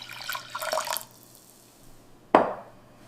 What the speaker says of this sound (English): Place your eggs in a pot, then add enough water to cover them.